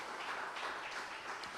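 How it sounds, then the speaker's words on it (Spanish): A church congregation claps in a sustained, even wash of applause, steady and fairly close, with no voices standing out above it. "Del aplauso fuerte al Rey bendito de la gloria"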